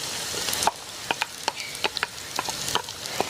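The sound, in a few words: thinly sliced shallots sautéing with green chili and curry leaves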